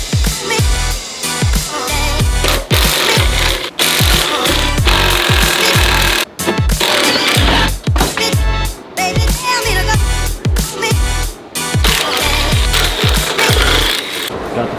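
A loud power impact tool rattles in rapid repeated bursts while struts are unbolted on a Mazdaspeed3 during a coilover install, heard up close with brief pauses between the hammering runs.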